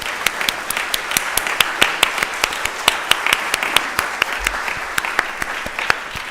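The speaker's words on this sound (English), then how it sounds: "Let's give all of these folks a round of applause." A small crowd applauds, with sharp distinct claps over a steady wash of clapping lasting several seconds and no voices.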